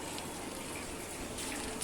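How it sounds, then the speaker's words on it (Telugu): Water gushes steadily onto plants in a home garden, a continuous, broad hiss of flow that stays even and close throughout with no voices. "పైన చెట్లకి నీళ్లు పడుతున్నారు అనుకుంటా."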